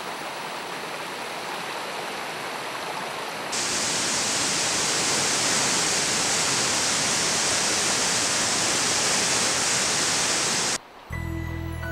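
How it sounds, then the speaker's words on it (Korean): Waterfall at Naeyeonsan in Pohang, a dense, continuous roar of rushing water that grows louder after a few seconds and holds steady before a brief dip near the end. "그 아래로 시원하게 쏟아져 내리는 폭포의 풍광이 그야말로 일품입니다."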